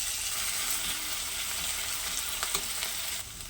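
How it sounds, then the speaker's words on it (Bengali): Onion, green chilli and garlic sizzle steadily in hot oil, a close, bright crackle with a few faint clicks of stirring. "পেঁয়াজটা ভাজা হয়ে গেছে, দিয়ে দিচ্ছি রসুন।"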